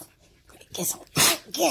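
A husky puppy gives a quick, sharp sneeze close by after getting salt in its nose, with a person's voice talking just before.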